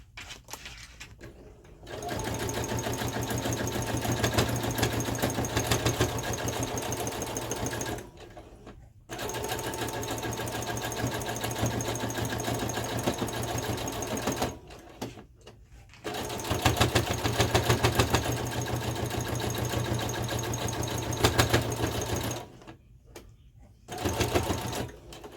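A sewing machine fitted with a ruffler foot gathers a row of patchwork for a skirt, running in long steady whirring bursts separated by short pauses as it works over seams.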